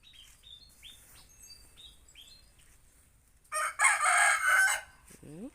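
A rooster crows loudly nearby in one long, rasping call, preceded by softer chirping birds in the background of a quiet rural yard.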